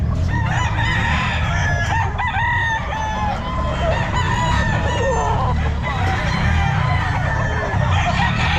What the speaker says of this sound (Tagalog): Sir, na manok ni Boss Delphin